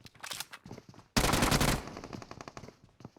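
Automatic gunfire in the PUBG Mobile battle royale game: sharp bursts crackle at first, then a loud sustained burst of rapid shots takes over midway before trailing off into scattered softer shots.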